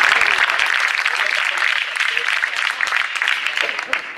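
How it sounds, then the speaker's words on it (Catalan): A crowd applauds at a Catalan political rally at a university. The clapping is dense, loud and sustained throughout, with crowd voices mixed in. "Un altre aplaudiment per ell, sisplau"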